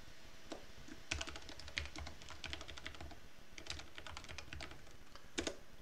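Quiet, steady typing on a computer keyboard, with keys clicking in irregular bursts while English text is entered into a text editor, plus an occasional louder keystroke.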